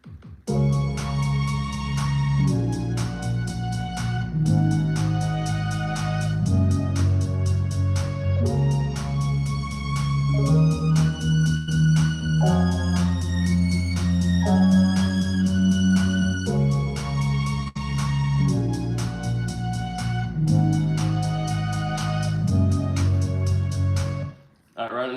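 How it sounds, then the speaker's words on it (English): A looped violin part in a music production plays over a full, dense backing with a steady low pulse, repeating in even cycles at a constant loud level and cutting off sharply near the end. "I just looped that violin,"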